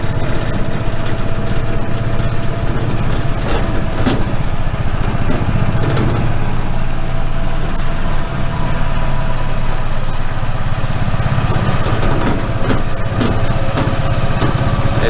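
A golf cart engine drones steadily and loudly as it rides around a campground at Staunton River State Park in Virginia, a constant rough mid-pitched hum with rattling vibration and no breaks.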